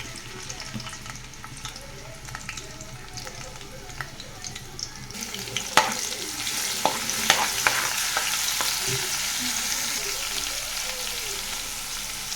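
Crushed garlic and coriander fry in oil, a crackling sizzle that swells after a sharp clink midway, with scattered stirring taps over the continuous hiss.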